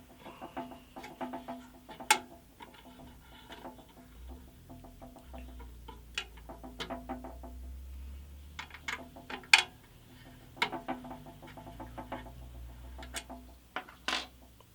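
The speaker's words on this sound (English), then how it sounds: "And now I'll just loosen these bushings" Bushings being loosened on a Scheppach HBS20 band saw during a blade change, a run of small metallic ticks and clicks in uneven bursts, close and fairly quiet, with a few sharper clacks.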